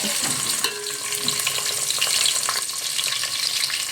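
Green chillies and chopped onion crackle in hot oil for bagara rice, a steady close sizzle with light stirring scrapes and pops for about four seconds, no talking.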